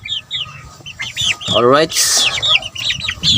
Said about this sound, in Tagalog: So dumadami na yung mga manok natin mga kasabong.